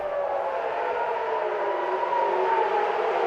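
A wailing air raid siren sounds during an Iranian ballistic missile attack on Tel Aviv at night, a loud steady tone that holds without a break and carries no speech.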